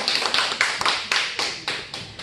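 A church congregation bursts into rhythmic applause, a series of sharp clapping swells at a steady beat, loud and close, with no voices over it.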